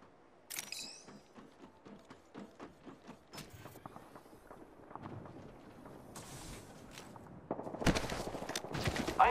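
Apex Legends gunfire crackles in rapid automatic bursts and single shots, with a dense, louder volley near the end and bright metallic clicks scattered throughout.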